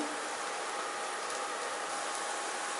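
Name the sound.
bitter gourd frying in pan on medium flame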